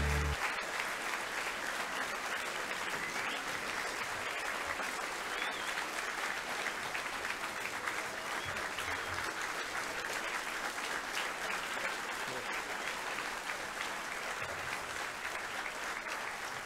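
A school staff farewell assembly audience applauds in honour of Mr. Howland, sustained dense hand clapping from a large crowd filling the hall, steady and fairly distant throughout.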